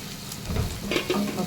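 Green chillies and onions fry in a hot pot, a short burst of sizzling with stirring scrapes and a few soft knocks, close and moderately loud.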